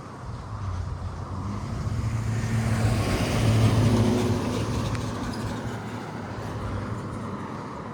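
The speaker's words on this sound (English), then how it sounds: "And here comes a UPS truck." A UPS delivery truck passing along a neighbourhood street, a steady broadband rumble that swells toward the middle and slowly fades, fairly close and loud with no talking.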